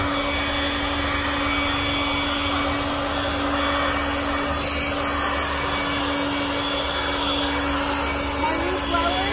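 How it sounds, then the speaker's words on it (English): A new leaf blower runs at lawn-care work, a steady loud whining drone with a constant tone that holds unbroken from start to finish. "That's our new blower."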